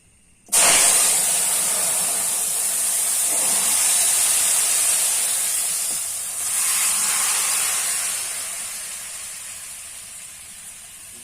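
Curry poured into hot oil with a cumin tempering and bay leaves for a Bengali rohu fish and taro stew sends up a sudden loud sizzle that settles into a long, steady hiss. The sizzle slowly fades with small swells along the way.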